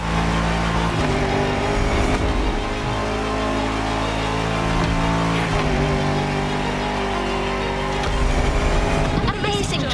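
An SUV engine drones and revs while driving off-road in The Crew Motorfest video game, loud and continuous, with game music and a voice talking over it.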